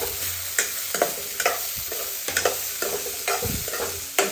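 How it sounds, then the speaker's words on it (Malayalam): Onion and green chili sizzle in a pan while a spoon stirs them, with repeated scraping clacks against the pan over a constant frying hiss, close and with no talk. "സവാള, പച്ചമുളക് ഇത്രയും ഇട്ടു ഇളക്കി കൊടുക്കാം."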